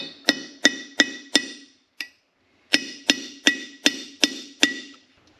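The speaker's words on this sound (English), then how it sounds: "my goal is to see if I can get a taper punch in there and maybe punch that old race out" Sharp metal hammer blows drive a taper punch against an old pilot bearing race in the flywheel of a 1939 Caterpillar D4 crawler, four quick strikes, a lone tap, a pause, then six more evenly spaced ringing hits, close and clear.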